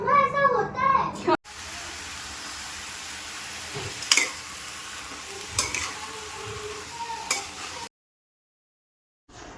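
Vegetables sizzling and frying in a pan right after a tadka tempering in a home kitchen, a steady close hiss with a few stirring clicks and scrapes, opening with a voice before the sizzle takes over and then cutting to silence.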